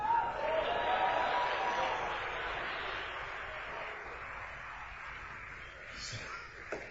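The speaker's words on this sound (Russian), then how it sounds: "Дайте аплодисменты Иисусу, друзья." A congregation applauds during a church service in a long, dense wash of clapping that is loudest at the start and slowly tapers off over several seconds, heard from a distance within the hall.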